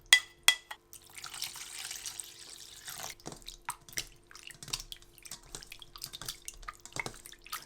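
Shrimp are rinsed in clean water at a sink, with soft splashing and trickling, a few sharp clinks at the start and scattered drips and taps, all quiet and close with no talking.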